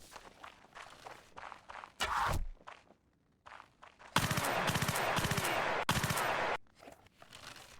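Gunfire in a modded Mount and Blade game, with soft footsteps and scuffling between two loud bursts of rapid shots, one short and one longer burst, heard close.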